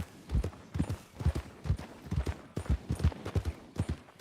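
Hooves of a large rider's horse in a Western roleplay game clip-clop in a steady rhythmic gait, close and clear, with no talking over them.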